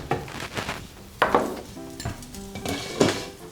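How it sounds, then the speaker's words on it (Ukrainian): Onion frying in a pan for a tortilla, with soft sizzling under clattering cookware, utensil scrapes and a lid or pan knocked about in sharp bursts at close range. "цибулька у нас жариться"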